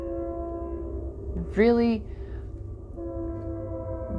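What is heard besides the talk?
train horn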